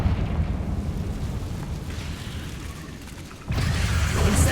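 Bombarda and Confringo spells exploding in Hogwarts Legacy: dense, rumbling blasts that roll continuously, with a fresh, louder burst landing near the end, all close and heavy.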